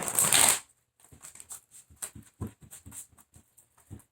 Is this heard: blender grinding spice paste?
no